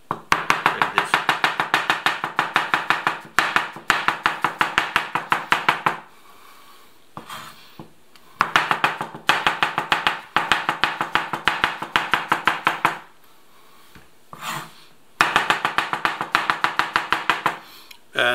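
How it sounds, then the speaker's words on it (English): A kitchen knife rapidly chops brown mushrooms on a cutting board, fast sharp taps in long bursts separated by short pauses, loud and close with no talking. "This technique is a bit makes more noise, but it's quicker, just chopping like this."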